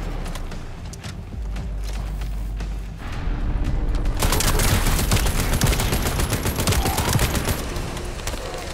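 Heavy machine gun fire in the shooter game The First Descendant, a dense continuous rattle of rapid shots that grows louder and harsher partway through, with no talking.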